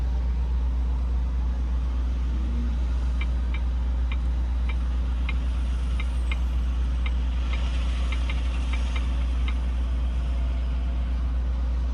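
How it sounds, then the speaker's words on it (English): Steady low engine rumble from vehicles idling and moving around a busy truck stop, with a cluster of faint rhythmic ticks partway through, continuous background traffic with no talking. "It's a busy place here with all sorts of different types of vehicles zipping around."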